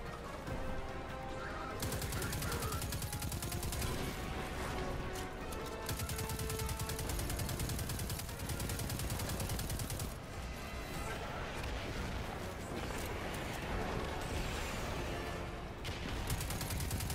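Dense bursts of enemy gunfire in the video game Destiny 2, closed beta on PS4. The shots come loud and almost nonstop, with crashing impacts and a voice talking now and then.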